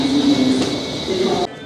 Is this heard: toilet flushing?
no